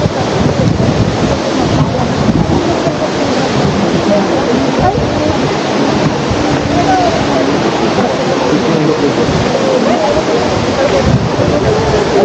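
Bomod-ok Falls in Sagada roars as a loud, steady broadband rush of falling water close by, continuous throughout with wind buffeting the microphone and faint voices mixed underneath.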